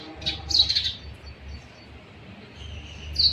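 A parrot kept in a cage gives a few short, high chirps in quick succession near the start and one more at the very end, close and clear over a quiet room hum, with no talking.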